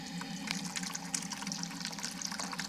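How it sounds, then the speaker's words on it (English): Warm water from a steam drain trickles into a bucket in a garage, a soft, steady splashing stream with small irregular drips, close and faint over a low hum. "Instead of blowing out a whole bunch of steam all over the garage, it's all collecting warm water into this bucket."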